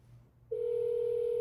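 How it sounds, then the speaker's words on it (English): A telephone starts ringing partway in, a steady electronic tone that holds unbroken after a brief quiet start over low room hum. "Ooh, phone's ringing."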